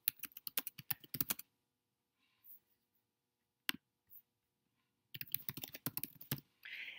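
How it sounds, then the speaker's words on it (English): Bursts of computer keyboard typing, a quick run of close key clicks, a pause with a few isolated taps, then another dense burst of keystrokes. "I'm going to type in the name of the unit."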